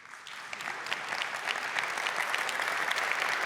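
An audience at the Microsoft Build 2024 keynote applauds, a dense, steady wash of clapping from many hands that swells slightly and holds for a few seconds.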